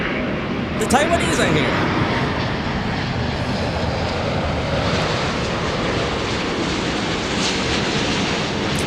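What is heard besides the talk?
Starlux Flight 2 airliner from Taipei arriving at LAX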